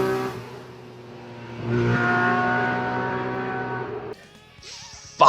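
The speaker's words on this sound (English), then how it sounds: "We got the absolute legendary CBX 1000." A Honda CBX 1000 inline-six motorcycle engine idles with a smooth, rich drone, rises as the throttle opens and holds a strong even note, then drops back, ending with a sharp burst.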